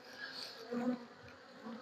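Honeybees from a recently made swarm colony buzz faintly and steadily in an opened hive during an inspection, a soft continuous hum with slight swells and no voices.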